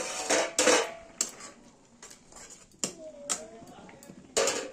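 A metal plate cover lifted off a pot of pineapple chutney, giving a few sharp clanks and clatters of metal on metal, close by, with a voice talking between the knocks.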